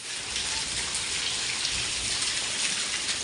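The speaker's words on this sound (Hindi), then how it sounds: "देखिए ये बारिश का पानी, कितनी तेज बारिश हो रही है" Heavy rain pours down in a dense, loud, unbroken hiss of falling water, close and steady for the few seconds with no voices over it.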